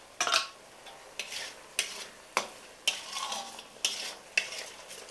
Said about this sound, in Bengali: যতক্ষণ না পেঁয়াজ থেকে তেল ছাড়ছে ততক্ষণ আমি এইভাবে নাড়তে থাকবো